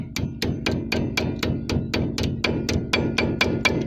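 A hammer strikes a punch to drive out a brake pad retaining pin on a Mercedes-Benz ML, about fifteen sharp metallic taps in a steady, even rhythm, close and clear with no talk.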